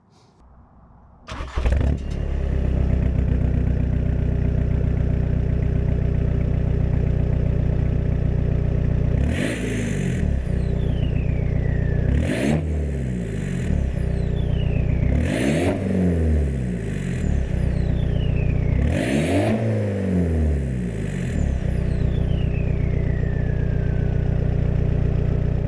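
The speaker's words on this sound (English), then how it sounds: "Now it does have an Ultra Sport exhaust, which I believe is just like an eBay exhaust" A Skoda Fabia Mk1 vRS 1.9 TDI PD130 diesel with an aftermarket exhaust starts and idles with a deep, throaty exhaust rumble, then is revved hard four times, each rev rising and falling back to idle.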